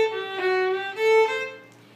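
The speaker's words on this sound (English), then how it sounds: "the next two measures have a treble in them, which sounds like this" An Irish fiddle plays a short, bright phrase with a quick treble ornament flick of notes, clear and close, ending on a sustained tone.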